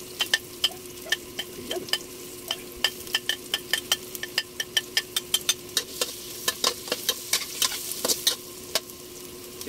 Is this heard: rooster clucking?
no